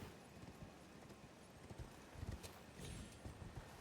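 Horse hooves clopping in the video game Elden Ring, a soft, fairly quiet rhythmic gallop of hoofbeats with a brief whinny-like texture.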